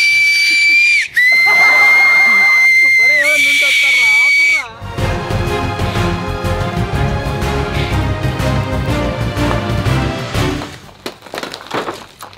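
A whistle blown in an abandoned, water-flooded village, with a few sustained shrill blasts close by, followed by loud, jumbled clatter and voices.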